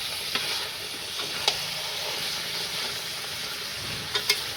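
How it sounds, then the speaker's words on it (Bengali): Potatoes stirred and fried in a pan, with a steady close sizzle broken by a few sharp scraping clicks of the spatula. "আলু দিয়ে নেড়ে চেড়ে আর একটু কষিয়ে নিব।"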